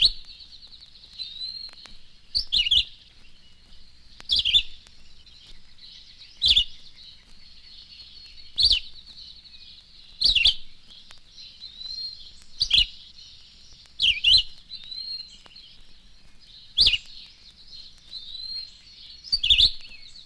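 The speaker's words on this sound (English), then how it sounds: "The red-eyed vireo says, "See me, over here, hear me,"" A red-eyed vireo sings short, clipped phrases at steady intervals of a couple of seconds, clear and fairly close, with no talking.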